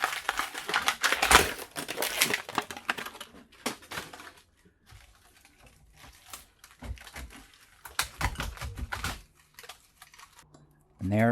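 Paper is pulled and crinkled out of a scrap box holding a copper coil, in bursts of crisp rustling and crumpling separated by quieter pauses, close to the microphone.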